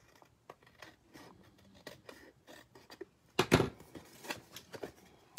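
Scissors snip through card stock while making a fun fold greeting card, a few quiet cuts followed by one louder, sharper burst of cutting near the end, with no talking.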